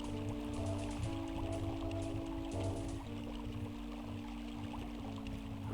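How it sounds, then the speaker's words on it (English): Steady rushing of running water in the Robotics Facility level of the video game Dark Forces, a continuous broadband wash layered over low, droning mechanical hums that shift pitch slightly, with no talking. "We've got the sound of running water again"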